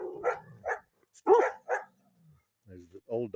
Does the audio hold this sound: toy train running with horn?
no